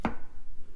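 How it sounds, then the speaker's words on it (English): A kitchen knife slices through fresh mushrooms on a cutting board, giving a single sharp cut at the start and then a brief, quiet tail. "First, I slice the mushrooms."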